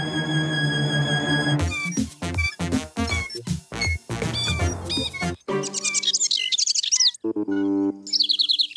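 A cartoon bird chirps in quick, bright tweets and trills, loud and close, with rapid staccato bursts and a few meow-like squeaks, with no talking over it.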